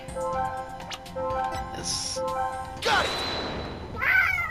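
A cat meows in the Phoenix Wright: Ace Attorney - Dual Destinies video game, with a short high cry near the end standing out over a steady bed of game music and sound effects.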